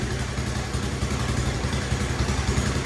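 Cold Honda off-road buggy engine idles roughly and lumpily, a close, steady low rumble with an uneven beat throughout and no voices.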